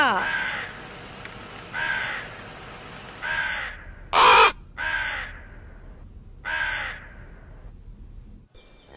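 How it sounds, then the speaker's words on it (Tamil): A crow caws six times in a loose, irregular series, loud and close, with short gaps between the harsh calls. "காக்கா"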